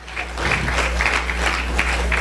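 A congregation claps their hands together, a close, even stretch of clapping over a low steady hum, with scattered voices mixed in.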